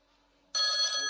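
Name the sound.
phone ringing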